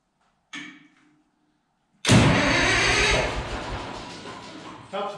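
A Caterpillar D311 diesel engine on an electric set starts up. A short clunk comes first, then after a pause a loud, sudden rough roar that settles into a steady, slowly fading rumble.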